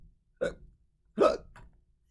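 Two loud, sharp hiccups sound in a quiet room, the second stronger, followed by a smaller catch of breath, close and alone.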